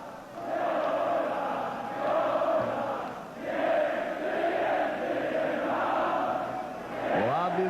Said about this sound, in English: now we hear the Polish national anthem being sung by the crowd